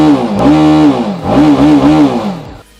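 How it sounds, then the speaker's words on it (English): A TVS Apache RR 310 BS6 motorcycle revs through its exhaust silencer, with several loud, close throttle blips that rise and fall as a deep, rasping engine note before it cuts off near the end. "Now let's check out how this silencer sounds."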